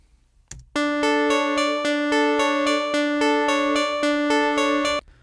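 A bright synth sounds a steady rhythmic pulse of repeated notes, loud and continuous for several seconds before stopping abruptly.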